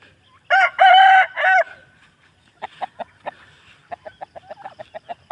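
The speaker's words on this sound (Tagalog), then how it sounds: "Ito yung manok na kalaban ng pabo guys." A rooster crows loudly once, then a hen clucks in a quick, uneven series of short, close clucks.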